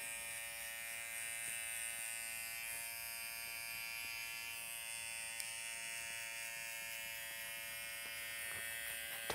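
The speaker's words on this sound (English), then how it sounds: "I'm just getting a little tighter and tighter using the toe and heel of my clipper." Electric hair clipper cutting a tight fade, a steady high-pitched buzz running continuously throughout, fairly faint, with occasional small clicks.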